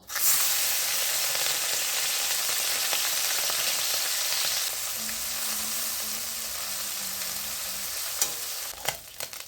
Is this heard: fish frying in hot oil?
yes